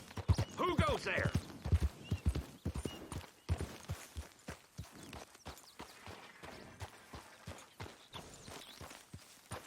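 Horse hooves clip-clop in the video game Red Dead Redemption 2, a steady walking rhythm of crisp hoof hits that carries on throughout, with someone talking briefly near the start.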